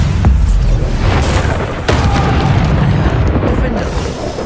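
A Bombarda spell explodes in Hogwarts Legacy gameplay, a loud booming blast with rumbling debris that sustains under the game's busy soundscape, with a few sharper hits along the way.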